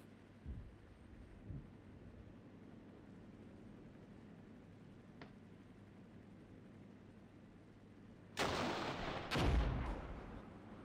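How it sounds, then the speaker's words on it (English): Grenades fired in the Armored Brigade war game land as a couple of soft distant thumps early on, then two sharp, loud blasts near the end, all over a low rumbling battlefield background. "Seems they're firing off grenades."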